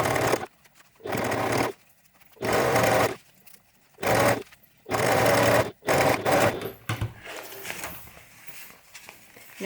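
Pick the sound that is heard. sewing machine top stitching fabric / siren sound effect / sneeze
sewing machine top stitching fabric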